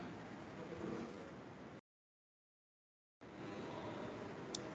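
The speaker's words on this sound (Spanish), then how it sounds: "esta lluvia va a pasar ahorita en un ratito" Steady rain falls outdoors at a construction site, a dense continuous hiss that cuts out briefly and then resumes, fairly faint with no speech.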